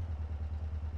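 Motorcycle engine in GTA MTA, a low, steady, pulsing rumble heard close and alone for a moment.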